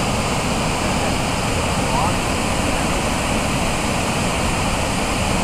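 Englishman River Falls on Vancouver Island cascades in a constant, broad roaring rush of water that holds steady throughout, loud and close.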